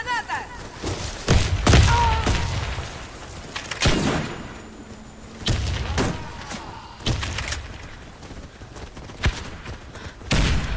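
Gunfire and a grenade explosion in a video game round, loud repeated shots and thumping blasts scattered across the stretch, with voices talking in between.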